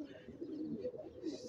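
A white Shirazi Potabund pigeon of an old breed coos softly, a low continuous murmur with no speech.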